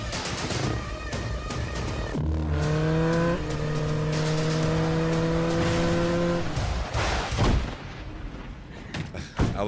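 A loud, high-pitched motorcycle engine revs up and holds a sustained whine, rising and falling in pitch, with sharp bursts around it.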